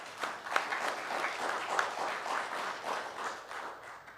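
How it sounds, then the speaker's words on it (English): An audience at a county commission meeting applauds with a round of moderately distant clapping, individual claps audible within a steady patter that holds even throughout. "I think we need to give them another round of applause for everything that they're doing here"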